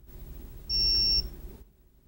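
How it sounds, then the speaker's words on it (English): A vaccine storage unit's temperature alarm sounds a single short, high-pitched electronic beep lasting about half a second over quiet background noise, with no talking. "There's that beep again."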